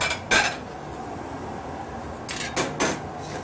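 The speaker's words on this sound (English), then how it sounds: "I'll grab a plate." Ceramic plate clinks and scrapes as it is picked up in a kitchen, with a knock near the start and a quick pair of clatters near the end, close and fairly loud, with no talking.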